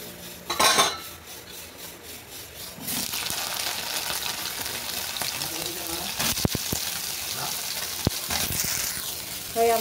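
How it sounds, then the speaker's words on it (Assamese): Soybean chunks fry in oil in a wok, a steady broadband sizzle that swells after a few seconds and runs throughout, with clinks of a utensil against the pan and a brief splash of running water early on. "ইয়াত এতিয়া ভাজি ল'ম চয়াবিনখিনি।"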